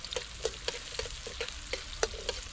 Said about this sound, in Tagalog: Gisa muna natin para masarap-sarap.